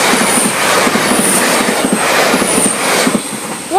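A Class 185 train passes the Station Road level crossing in York, a steady rumble of wheels with rhythmic clicking over the rail joints and a faint high squeal, loud and close throughout.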